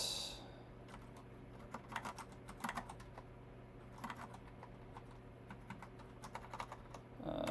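Clicks of typing on a computer keyboard during a coding session, bursts of quick keystrokes separated by short pauses, close and fairly quiet over a faint hum.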